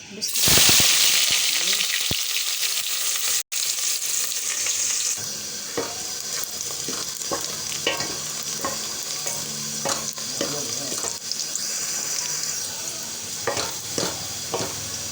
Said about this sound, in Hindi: जब घी गर्म होता है तो फिर डालते हैं प्याज। इधर डाल दी जा रही प्याज।